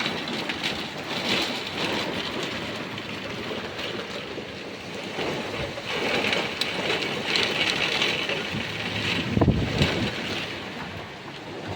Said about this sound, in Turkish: Acayip bir yağmur yağıyor be.